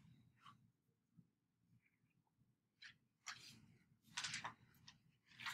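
A single quiet sneeze breaks an otherwise hushed room during a geometry lesson, a short sharp burst heard faintly at some distance.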